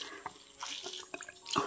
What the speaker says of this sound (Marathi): पाणी काढून घेते यातलं